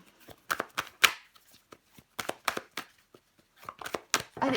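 Tarot cards are shuffled, flipped and laid out in a French reading, giving crisp, close papery snaps and slides in irregular bursts, with brief quiet gaps between them.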